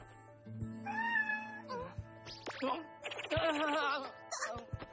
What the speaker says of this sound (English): You can't bring a cat with you to the hospital!